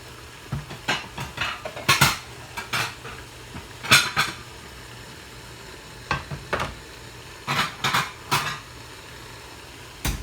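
Plates and dishes clink and clatter in scattered bursts while cooking traditional Chinese little cabbage, with a low sizzle from the pan running steadily underneath.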